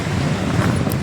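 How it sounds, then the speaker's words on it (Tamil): Strong wind gusts over a hill near a temple, roaring and buffeting the microphone as steady, loud rumbling noise, with no voices. "நல்ல காற்று வேற லெவலில் அடிக்குது."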